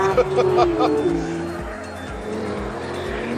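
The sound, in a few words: race car sliding over the kerbs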